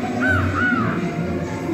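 Two drawn-out crow caws sound in a spooky haunted-mansion game, closely spaced and riding over a steady eerie ambient bed.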